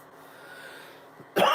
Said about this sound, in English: don't be coughing like that